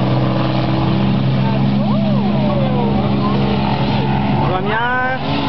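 Race cars in close competition during a motor race, a loud continuous engine roar with rising and falling whines as cars pass, under excited commentary.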